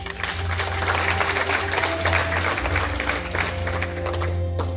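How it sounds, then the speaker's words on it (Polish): At a gala awards ceremony, an audience claps steadily for several seconds, a moderately loud, even patter over a low, constant hum in the hall. "Liczymy na Państwa brawa."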